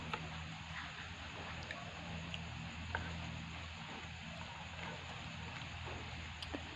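Steady light rain pattering outdoors, a soft continuous patter with occasional sharper drips, faint and fairly distant, with no talk.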